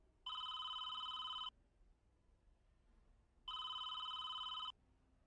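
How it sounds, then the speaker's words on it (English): A telephone rings twice in a visual novel game, two separate trilling electronic bursts of just over a second each with a quiet pause between, clear and alone. "The phone rang."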